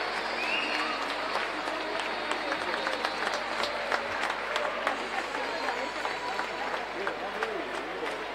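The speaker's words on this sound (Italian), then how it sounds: "Facciamo un grande applauso." Continuous dense applause from the audience at a Serie A1 roller hockey match between Hockey Trissino and Amatori Wasken Lodi, steady and moderately loud throughout with a diffuse crowd wash.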